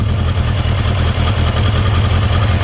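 A barn-find Kawasaki GPZ900R four-cylinder motorcycle idles close by, a steady loud low throb with a fast rhythmic pulse and no talking.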